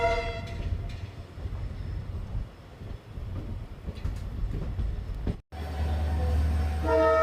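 A train departs Chitradurga station, rumbling steadily with a strong low drone before a pause and a long, loud horn blast near the end, heard close from on board.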